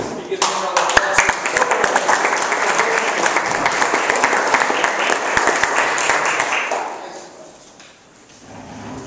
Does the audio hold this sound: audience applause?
yes